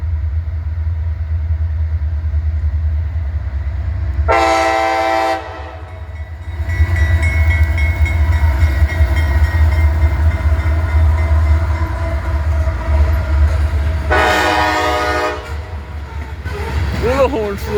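A CSX grain train rumbles past in Kenova, West Virginia, its loud, continuous rolling rumble carrying throughout while two long horn blasts sound, one near the start and another later, close and powerful.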